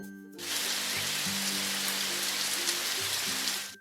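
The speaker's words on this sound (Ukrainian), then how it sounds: "давайте з вами послухаємо звуки дощу." Steady rain patters on a surface, a dense even hiss of drops that starts abruptly and continues without pause.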